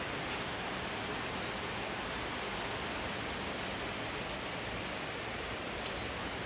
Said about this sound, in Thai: ฝนตกแบบนี้เซ็งเลยนะครับ